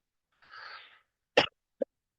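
A single short cough from someone speaking about recovery affirmations, preceded by a soft breathy exhale and followed by a tiny click, quiet and close with no talk over it.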